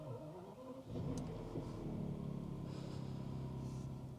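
A BMW E65 7 Series engine fires up and settles into a low, steady running rumble, heard close but quiet, with a slight rise as it catches.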